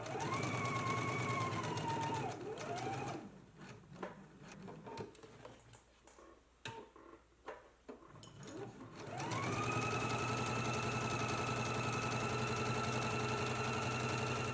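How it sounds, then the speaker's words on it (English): A sewing machine stitches a 5/8 inch side seam on a dress, its motor whirring at speed with rapid needle clatter, slowing to irregular taps and handling noises in the middle before running steadily again. "let's go ahead and stitch in a 5/8 inch seam allowance along the side"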